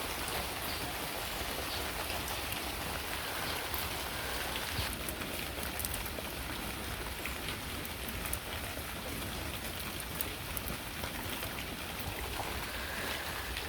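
Steady rain falls across a flooded village, a dense, even hiss of drops on water and surfaces that stays constant and fairly loud throughout, with no voices.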